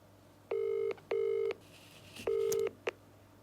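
Telephone keypad tones as a call is dialed: three steady beeps in quick succession, then a short final blip, clear and close against a quiet background.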